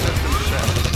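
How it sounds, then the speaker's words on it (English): A single burst of heavy, crashing Atlas cannon fire in the video game Red Alert 20XX, loud and dense with booming low end. "Warning, Atlas cannon fire."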